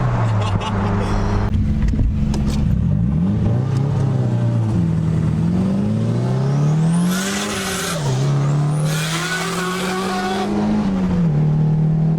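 A built 550 hp R33 with a turbocharged RB25DET engine revs hard and climbs through the gears on a freeway with a loud, rising drone and a turbo whoosh, heard close up without speech.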